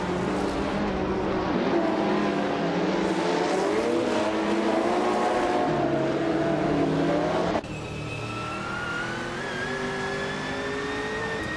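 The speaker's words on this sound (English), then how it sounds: "Maya is driving a 1995 Chevrolet Camaro IMSA Tour" A 1995 Chevrolet Camaro IMSA race car in a racing video game, its engine holding a loud, continuous drone with rising and falling pitch, then shifting gear into a new steady tone partway through.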